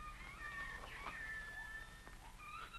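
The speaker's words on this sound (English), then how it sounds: "That's just a little baby lion." A baby lion cub gives high, cat-like mewing cries that run almost without a break for about three seconds, close and clear with no talking.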